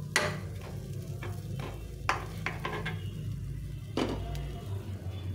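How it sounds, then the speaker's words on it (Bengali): A snack frying in a pan gives a soft, steady sizzle under a low background hum, broken by several light scrapes and clicks of stirring. "সময় নিয়ে এটা ভেজে নিতে হবে।"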